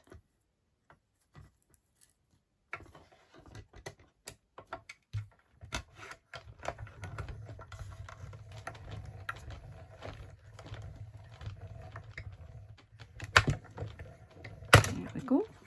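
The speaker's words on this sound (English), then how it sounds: "The pieces I need to cut are small enough to go into my mini Stampin' Cut and Emboss." A mini Stampin' Cut and Emboss die-cutting machine presses small paper card pieces through dies, making a close, steady grinding rumble with scattered clicks and a sharp clunk near the end.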